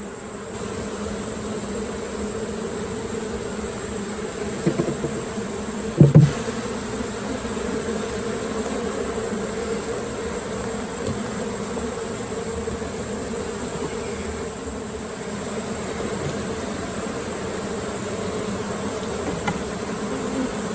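A colony of honey bees hums steadily throughout, a dense unbroken insect buzz as the bees are moved into a Layens hive, with a couple of brief knocks or thumps of hive handling in the middle.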